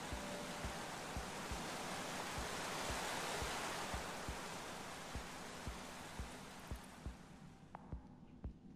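A steady broad rushing roar of a waterfall in the game Minecraft: Story Mode fills the whole stretch, with soft regular thumping footsteps underneath and the roar fading slightly toward the end.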